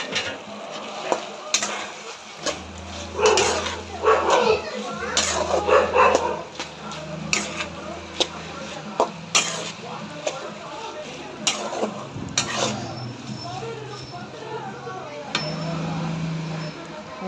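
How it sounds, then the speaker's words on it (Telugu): Pre-fried ingredients are stirred back into a sizzling cooking pan, with a spoon scraping in repeated rhythmic strokes over a steady fry, while someone talks and a dog barks in the background. "ముందుగా వేయించుకున్న వాటిని దాంట్లో వేసాను. ఇంకోసారి మిక్స్ చేస్తాను."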